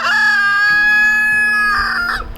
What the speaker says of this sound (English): a rooster crowing in the morning